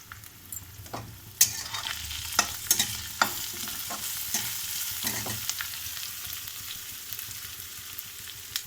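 Curry leaves and turmeric sizzle in hot oil in a pan for okra fry, a soft steady crackle broken by sharp pops and scraping stirs up close.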